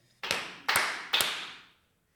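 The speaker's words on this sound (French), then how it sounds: "Donc je vais applaudir sans aucune transition" An interviewer's hands clapping three times, each clap sharp and close with a short ringing decay, spaced about half a second apart before silence.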